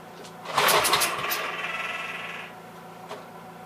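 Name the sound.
Troy-Bilt tiller engine starting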